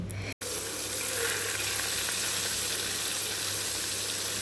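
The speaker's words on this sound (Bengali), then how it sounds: "আমি বরং সেই ফাঁকে মাছটা ভেজে নিই" Fish frying in a home kitchen pan, giving a steady, dense sizzle that runs continuously at moderate loudness after a brief dropout near the start, with no talking over it.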